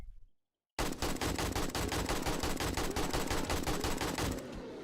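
Rapid automatic gunfire from the survival video game 7 Days to Die erupts after a brief silence, a loud, dense burst of shots running without pause to the end with no voices.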